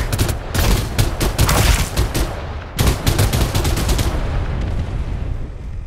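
Rapid automatic gunfire in the mobile shooter game Farlight 84 plays as loud, dense bursts of shots with a brief pause in the middle before firing resumes and then tapers off.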